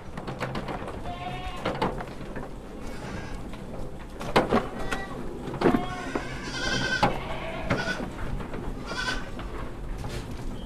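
Goats bleating in a long breeding pen on a goat farm, several animals calling repeatedly at close and middle distance over a background of barn noise, with occasional faint voices.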